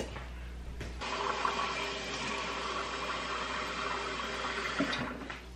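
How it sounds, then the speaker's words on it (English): Water pours steadily into a pot holding a seasoned roast, a continuous splashing rush lasting several seconds with a short pause and clink at each end, close and moderately loud. "here's a couple more cups going in"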